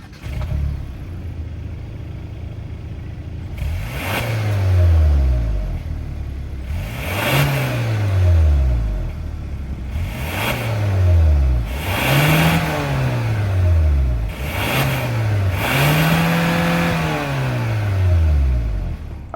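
A 2024 Hyundai Santa Cruz Night Edition's 2.5-liter turbo four-cylinder revs repeatedly at idle, five or six sharp blips rising and falling in pitch, loud and close, with a whooshing exhaust note between them.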